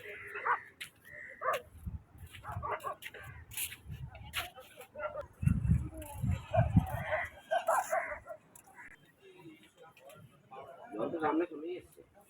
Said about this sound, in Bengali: এই দেখ মুরগি, মুরগি, এই দেখ